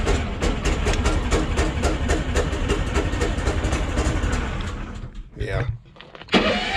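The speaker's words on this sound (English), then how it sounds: "I probably didn't need to choke it." A small engine on new equipment, started with the key after being choked, runs loud and steady with a rapid rhythmic chug, then cuts out briefly near the end before surging back; a voice speaks briefly.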